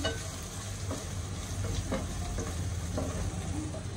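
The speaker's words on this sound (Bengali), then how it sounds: "ঢেঁড়স, চিংড়ি, পেঁয়াজ একসাথে ভাজা হয়ে গেছে" Okra, shrimp and onion frying together in a pan give a steady, close sizzle, broken now and then by the scrape of stirring. There is no talk.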